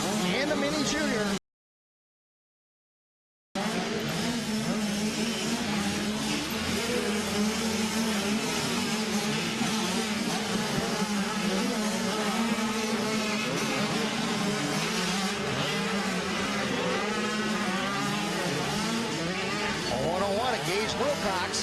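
Motocross motorcycles, a Kawasaki among them, race in a mini junior class with engines buzzing and revving continuously beneath an announcer's voice. The sound cuts out for about two seconds early on.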